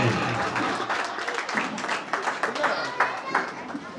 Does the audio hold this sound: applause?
yes